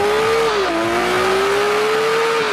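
A 2022 BMW M440i coupe's engine held in sport mode, one steady sustained note that dips slightly then climbs again, loud and close with no talk over it.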